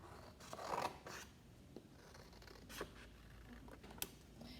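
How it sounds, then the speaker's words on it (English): Scissors cut a rectangle from a sheet of paper, soft close snips and rustling paper rubs in a quiet room, faint and uneven with a few sharper clicks. "take your piece of paper, cut like a rectangle"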